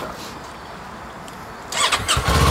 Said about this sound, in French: Et on va démarrer ce bicylindre